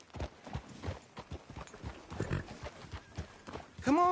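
Horse hooves clip-clop in a steady run of soft thuds in the game Red Dead Redemption 2, close and moderately loud, with a brief rising tone at the end.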